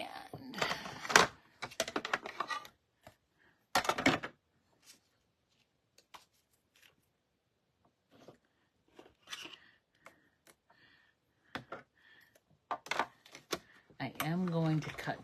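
A hand-cranked die-cutting machine rolls paper for a card forward and then back, giving bursts of grinding, clicking mechanical noise separated by pauses, heard up close and fairly quiet.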